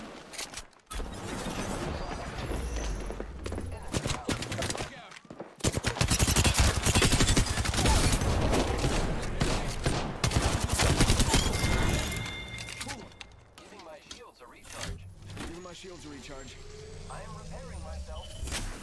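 Heavy automatic gunfire in the battle royale game Apex Legends, long loud bursts of rapid shots with sharp single cracks, mixed with game effects and a player talking over it.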